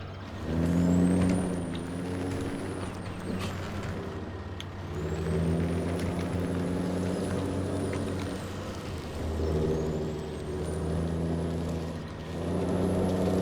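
Logging truck in Farming Simulator 2017 reversing under a steady diesel engine drone, with repeated sharp air-brake hisses and whines rising and falling over about thirteen seconds.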